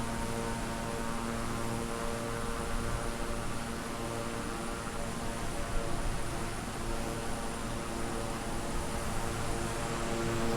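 A Concorde flying in the video game Microsoft Flight Simulator: a steady, dense engine roar with a constant tonal hum, unchanging and continuous throughout, with no talk.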